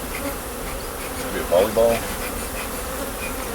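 Bees from a large, agitated feral hive during a removal in Godley, Texas, giving a steady droning buzz throughout with a couple of brief louder passes close by, while a voice speaks faintly.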